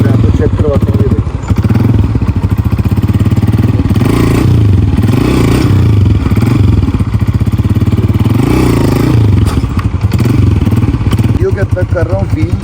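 A 2025 Honda CG125 motorcycle engine, freshly tuned, runs loud and close with a rapid chugging idle that rises and falls as the throttle is blipped, rough mechanical clatter over the exhaust drone throughout.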